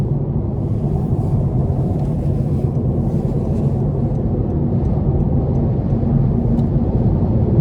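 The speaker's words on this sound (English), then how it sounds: "these tires are a bit louder than average, I would say, on a vehicle in general." Steady low road and tire rumble inside a 2026 Honda Civic Hatchback Sport 2.0 on 18-inch wheels, heard continuously and fairly loud while driving, with no talking.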